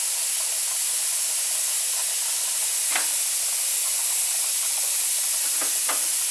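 A pressure canner loaded with raw pork and bacon vents steam on a stovetop, giving a steady, loud hiss throughout with a few faint clicks mixed in.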